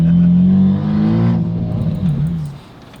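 A Mitsubishi Evo 8 engine revs up close after a spark plug change, holding a loud, steady idle-to-rev drone that dips and wavers before settling down, with no talk.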